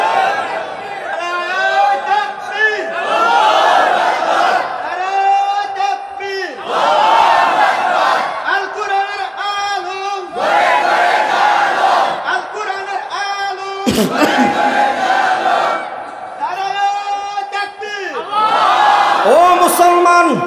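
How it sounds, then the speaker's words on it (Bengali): Large crowd at a religious sermon roaring the Nara-e-Takbir battle cry in repeated loud, sustained collective shouts, several waves of chanting voices rising and falling in succession. "নারায়ে তাকবীর দেওয়ার লোক নাই?"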